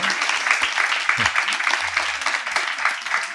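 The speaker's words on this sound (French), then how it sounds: "je pense qu'on peut l'applaudir parce que c'est un prix très important" A French audience applauds an artisan perfumer's international prize with sustained, even clapping, a few low voiced sounds briefly mixed in.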